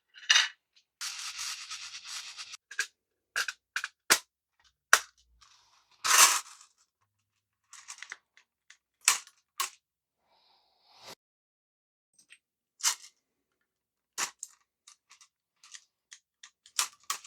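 CCI BR-2 large rifle primers are seated into 7mm PRC brass, heard as a series of sharp, close mechanical clicks and snaps at irregular intervals with quiet gaps between them.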